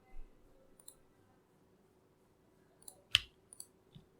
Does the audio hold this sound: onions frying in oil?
no